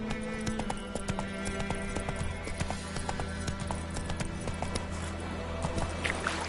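Roach the horse gallops in The Witcher 3, rhythmic clip-clop hoofbeats pounding close and steady with a brief whinny-like tone, and no voices heard.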